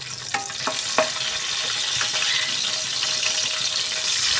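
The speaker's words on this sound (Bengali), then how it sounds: "জিরাটা একটু ভাজা ভাজা হয়ে এলে এখানে আমি দিয়ে দেবো চারটে কাঁচা লঙ্কা" Whole cumin seeds and green chilies fry in hot oil, giving a close, steady crackling sizzle with a few sharp pops and clicks near the start and no voices.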